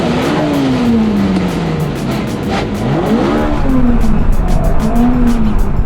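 Race car at Silverstone with a failing gearbox, a continuous loud engine drone with shifting pitch as revs rise and fall, harsh and close throughout with no talking.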